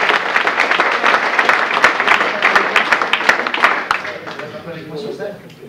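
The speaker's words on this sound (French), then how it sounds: "Ok, on va applaudir Poppy" A theatre audience applauds steadily for several seconds, the clapping dense and loud before thinning out toward the end, with a few voices mixed in.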